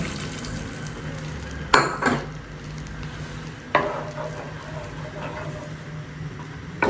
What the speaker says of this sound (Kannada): ಬೆಳ್ಳುಳ್ಳಿ ಸ್ವಲ್ಪ ಫ್ರೈ ಆದ ನಂತರ 1 ಕಪ್ ನೀರನ್ನು ಆ್ಯಡ್ ಮಾಡ್ತೀನಿ